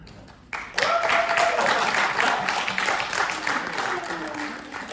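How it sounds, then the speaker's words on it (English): A workshop audience in a classroom breaks into applause for a working sockets demo, a dense steady patter of clapping sustained for several seconds at moderate loudness after a brief quiet start, with a voice faintly audible in the mix. "Now is the time for thunderous applause."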